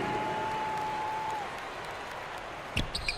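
Broad, steady crowd applause and cheering in the NBA 2K23 basketball video game, filling the space, fading slightly toward the end, with a few sharp thumps near the close.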